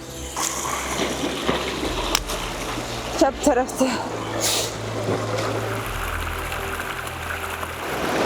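Mountain waterfall and stream water reached along a dangerous path, a steady wash of flowing water with occasional splashes, moderately distant, while someone speaks briefly over it.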